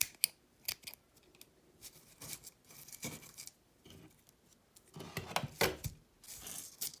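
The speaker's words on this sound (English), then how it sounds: "Trim up the ends." Scissors snip and trim the ends of a sagebrush smudge stick, making a series of crisp, close, quiet cuts in irregular bursts with short pauses between them.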